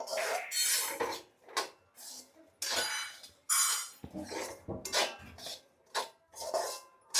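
Semolina being roasted and stirred in a pan, heard as repeated close scraping and clinking of a spoon against the metal, in uneven bursts with short pauses.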